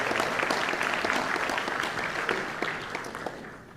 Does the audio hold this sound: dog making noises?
no